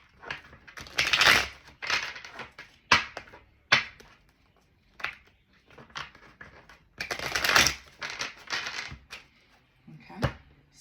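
A deck of tarot cards is shuffled in a series of close, crisp riffling and shuffling bursts separated by short pauses, some longer and louder than others, with no talking.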